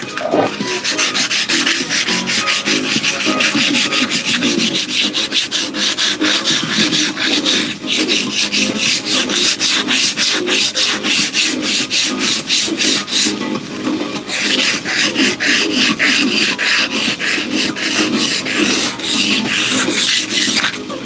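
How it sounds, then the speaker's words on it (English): A workpiece coated in Aluma Black being sanded by hand, giving loud, close, continuous rasping strokes in a fast, even rhythm with a brief pause midway, and no talking. "let me try and sand it"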